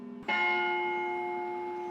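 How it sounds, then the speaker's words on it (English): A single church-style bell in a refurbished academy bell tower strikes once after a brief lead-in, then its bright metallic tone rings on and slowly decays, clear and alone with no voices. "The bell tower was refurbished and the bell is ringing."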